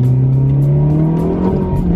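A Ferrari 360 Modena engine revs hard from inside the car, a loud, close, rising mechanical drone with strong steady harmonics that climbs in pitch and shifts gear midway.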